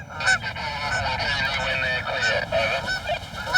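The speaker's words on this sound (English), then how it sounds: "Hey, there's a family of geese." Several geese honk repeatedly and overlap, a steady clamor of nasal calls nearby with no talking.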